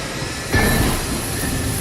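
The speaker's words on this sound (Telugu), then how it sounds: "ట్రైన్ బయలుదేరుతోంది." A passenger train pulls away in a steady mechanical rumble that swells abruptly after a brief quieter moment and then holds a constant close roar.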